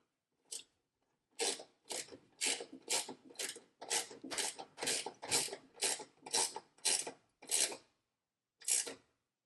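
A Prostormer metric flex-head ratcheting wrench tightening a nut, a close, quiet series of about a dozen raspy ratchet clicks in an even back-and-forth rhythm with brief gaps.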